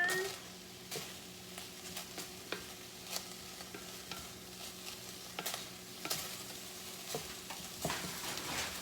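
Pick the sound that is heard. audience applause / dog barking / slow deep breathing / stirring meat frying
stirring meat frying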